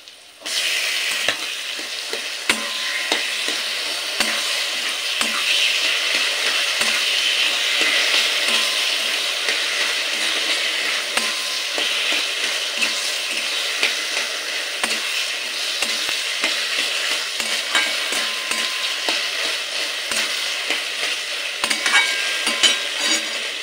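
Boiled taro and spices fry and sizzle in a pan as Bengali chickpea-and-taro-greens curry cooks. A steady, close hiss runs throughout, with frequent clicks and scrapes of stirring and no talking.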